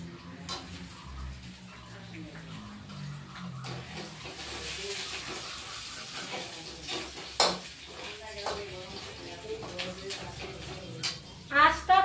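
Fried potatoes tipped into a pan of okra curry, frying with a steady low sizzle and scraping stir strokes, plus a few sharp clinks of a spoon against the pan near the end; a voice talks briefly in the middle.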